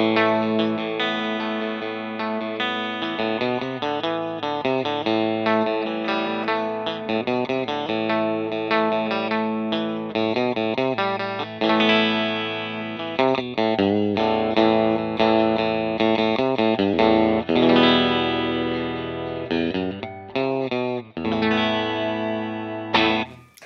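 Electric guitar through an Overloud vintage Fender-style amp simulation set clean with bright treble, a long passage of chords and single notes with chorus-like shimmer, played alone at steady volume.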